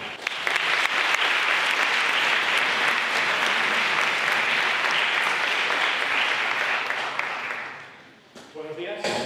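Audience applause at a Spanish-language lecture on data science and machine learning: dense, steady clapping from a full room for about eight seconds, then fading out as a single voice starts talking.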